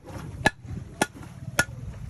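A hammer knocks on a Bahamas conch shell three times at an even pace, each strike a sharp, close, hard tap with quiet pauses between.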